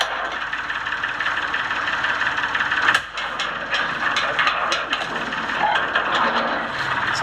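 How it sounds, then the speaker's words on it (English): A tractor engine runs on a farm during a traditional Appalachian hog slaughter day, a steady mid-pitched rumble with a brief knock or clatter partway through, heard fairly close with no speech. "So we have the tractor over here."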